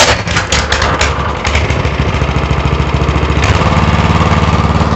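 A Honda GX160 engine on a plate compactor fires up and settles into a loud, steady, throbbing idle close by, with a rapid even chug throughout.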